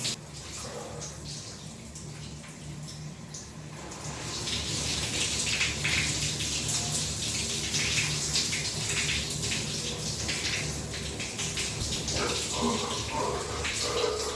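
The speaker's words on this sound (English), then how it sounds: "I'm going to jump in the shower and get ready for work." Shower water runs steadily in a home bathroom, a continuous hissing spray that grows a little louder partway through and carries on without pause.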